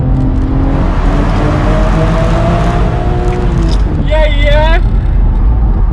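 A Stage 1 BMW 335i engine drones loudly in an echoing tunnel, revving up briefly near the end while a voice speaks over it.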